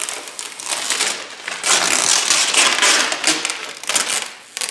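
Excess protective film is peeled off a 2022 Kawasaki KLR 650 gas tank, giving a loud, close crackling rip that runs in uneven bursts for several seconds, with no talking.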